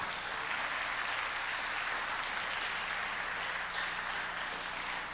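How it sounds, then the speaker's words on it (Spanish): A church congregation applauds during a Spanish-language sermon, a continuous dense roar of clapping that stays even and fairly loud for the whole stretch, with no voices rising above it. "¿Puedes darle un fuerte aplauso al Señor por eso?"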